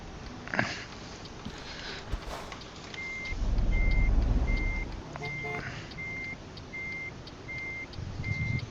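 In Euro Truck Simulator 2, a truck's reversing alarm beeps in a steady, evenly spaced series over low engine rumble and game ambience, with a brief heavier rumble in the middle.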